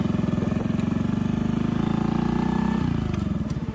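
A Honda Dream C100 semi-automatic motorcycle runs in first gear on a road, its small single-cylinder engine putting out a steady, close, rapid putter that briefly shifts tone near the end.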